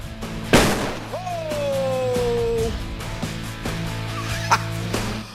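A test explosion outdoors sets off one sharp, loud blast near the start, followed by a sustained tonal whine and a smaller second pop later over a constant low hum.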